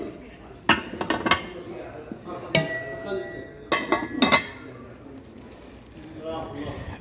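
Neoflam Korean cookware pots, pans and lids clink and clatter against each other up close in several sharp metallic knocks and rings, some leaving short tonal rings, while someone talks throughout.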